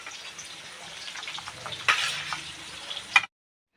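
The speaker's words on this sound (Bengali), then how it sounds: "এখন আমি ভাজা করে রাখা মাছগুলোও দিয়ে দেব।" Fried katla fish pieces slide into a bubbling mustard-oil gravy for a spicy tel jhal, giving a steady close hiss and bubble with a soft splash near the middle and a sharper clink just before it stops.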